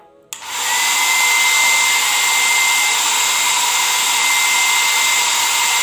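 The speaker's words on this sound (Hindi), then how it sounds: "जो ये हेयर ड्रायर है उसका थ्रस्ट पावर कितना है" A Nova 1200 watt foldable hair dryer switches on after a brief click and runs steadily and loudly with a constant whooshing airflow and whine, close up, with no talking.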